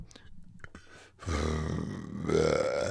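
A long, deep, loud burp rolls out after a couple of short quieter sounds, swelling in strength toward its end.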